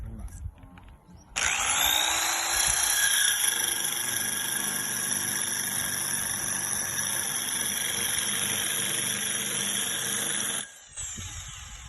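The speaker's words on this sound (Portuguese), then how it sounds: "Vamos ver a performance dele mediante a Serra Copa aí, Silvinho." A hole saw bores into recycled EPS composite material with a loud, steady, high-pitched whine for about nine seconds, starting abruptly and stopping just as sharply.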